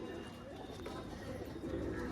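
Pigeons, including a female shown in a sale collection, coo steadily in low, rolling tones close by, over a constant background hum with no clear speech.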